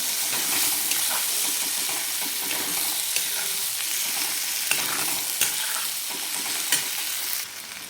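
Soaked, washed masoor lentils being stirred into onions frying in a pan give a loud, continuous sizzle with scraping stir strokes and a few sharp clicks, easing off slightly at the very end.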